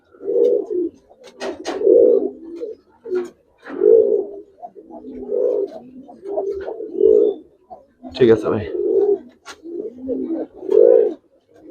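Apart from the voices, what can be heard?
pigeons cooing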